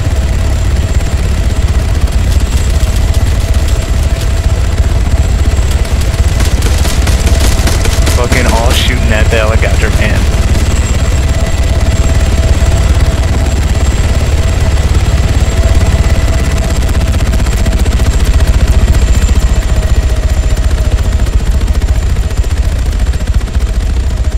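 A helicopter engine in the video game Arma 3 gives a steady, loud droning hum throughout, with a burst of gunfire cutting through partway.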